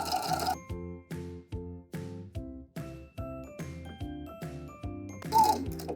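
A sewing machine runs in short rhythmic bursts, back stitching shirring elastic onto fabric, with a close, even mechanical hum pulsing about twice a second.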